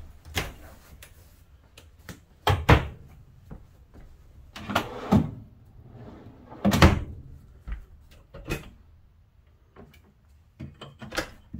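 Cabinet doors opened and closed in a horse trailer's living-quarters island, a series of close wooden knocks, clicks and thuds spread irregularly across the stretch, with faint rustling between.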